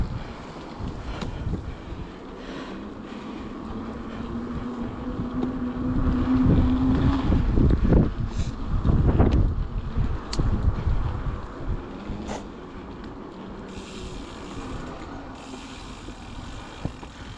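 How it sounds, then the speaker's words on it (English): Gusts of wind buffet the microphone with low rumbling thumps that swell and fade, and a faint engine-like drone runs underneath. "It's a very windy day today, so it's a good day to test the microphones out."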